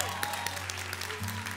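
An audience at a televised singing gala applauds steadily, a dense wash of clapping with a low hum underneath throughout.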